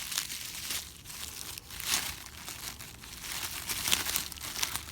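A padded bubble-wrap mail envelope is torn open, giving continuous close crinkling and ripping of paper and plastic in uneven surges with no voices.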